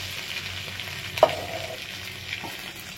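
Oil frying in a pan left over from frying prawns, a soft steady sizzle with one clear utensil knock and a faint scrape, quiet and close, no voices.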